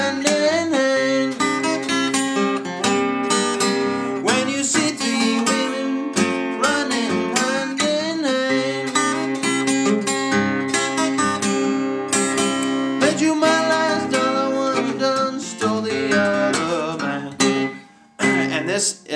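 A guitar plays the fifth stanza of a song in a Delta blues style, with a thumping bass line under ringing chords and runs, steady and close, and no talking.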